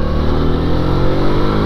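A 1983 Honda Ascot motorcycle engine revs hard and steady, a loud continuous roar close by with no talking over it.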